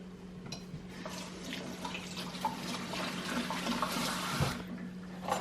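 Tap water runs steadily into a sink while a kiwi is rinsed under it, a continuous splashing rush with small shifts in flow and faint handling sounds close by.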